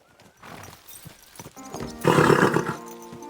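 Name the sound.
horse neighing and clip-clopping in Kingdom Come Deliverance 2, a video game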